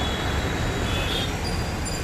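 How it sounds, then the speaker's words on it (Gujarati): An Ahmedabad metro train pulls into a station with a steady, loud rumble and hiss that fills the platform evenly, with no distinct clanks or announcements. "મિત્રો ફાઇનલી મેટ્રો વસ્ત્રાલ તરફથી આવી ગઈ છે"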